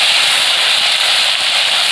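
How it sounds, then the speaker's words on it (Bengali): Tomato sizzles loudly in hot oil in a pan with dried red chilies and bay leaves, a steady, close, hissing fry that fills the whole stretch without pause. "ভালো করে ভেজে নেব।"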